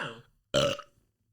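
A single loud, throaty burp erupts close by after a moment of quiet, with a softer voiced sound just before it.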